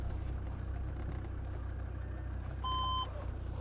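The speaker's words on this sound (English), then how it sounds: "There's that beep in reverse right there, letting you know that the backup sensors are working." A 2000 Land Rover Defender Td5 110 idles quietly in reverse, with a single short electronic backup-sensor beep sounding near the end over the low diesel hum.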